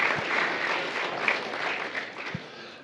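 Audience applause at a Big Buck Night hunting event, a steady wash of many hands clapping at once, fairly loud and sustained throughout with no voices on top.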